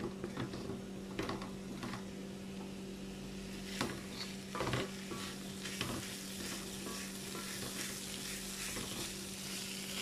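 Long beans are stir-fried in a wok, a steady sizzle broken by repeated scraping and clanking strokes of a spatula against the pan.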